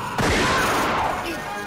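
A loud burst of gunfire erupts and rolls on for over a second, dense and booming.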